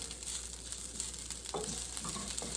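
Onions frying in a pan for mujaddara give a steady, close sizzle with soft crackle throughout, plus a brief scrape or stir partway through.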